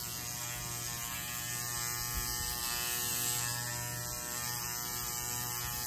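A Mustang Tattoo Element 2 rotary tattoo machine running at 8 volts gives off a steady, close mechanical whir with a constant tonal hum, continuous and unbroken throughout.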